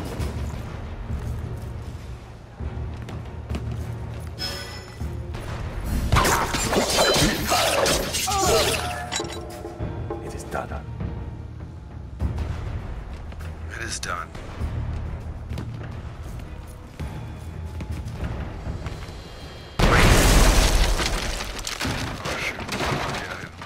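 Cannon fire and explosions in the stealth game Shadow Tactics: a loud burst of shattering, crashing blasts in the middle, then another sudden boom near the end, with game voices and ambience around them.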